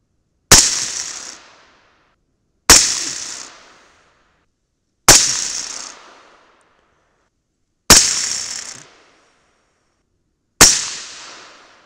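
Five single 6.5 Grendel rifle shots firing 129gr Nosler Accubond bullets over IMR-4166 powder loads, each a sharp loud crack with a decaying tail, spaced a few seconds apart at an outdoor range, no voices.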